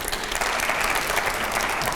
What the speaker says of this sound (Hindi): दूसरे सवाल से पहले जरा जोरदार तालियां हो जाए पहले